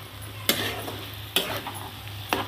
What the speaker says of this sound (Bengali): এবার আমি ভালো করে পালং শাকটার সঙ্গে মিশিয়ে দেব